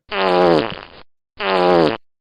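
Two loud, identical fart sound effects play back to back, each a long buzzy blast of about a second with a short silent gap between, with no talking.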